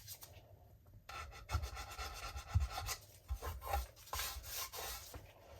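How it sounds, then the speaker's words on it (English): A normal nail file rasps against the edges of cured resin by hand, giving a run of short, close scraping strokes in an irregular rhythm with no talking. "And we can do that either manually I'm using a nail file here,"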